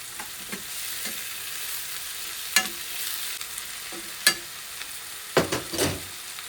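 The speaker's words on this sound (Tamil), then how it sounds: "இஞ்சி பூண்டு பேஸ்ட்டு போட்டுக்கிறேன்." Continuous sizzling of ginger garlic paste frying in a hot pan, with intermittent clinks and scrapes of a spoon stirring against the metal.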